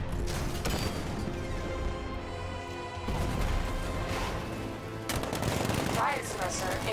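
Heavy 60mm cannon and gunfire blasts from an unmanned tank in the Batman: Arkham Knight video game, loud repeated bursts mixed with mechanical clanks and game effects, with a voice speaking partway through.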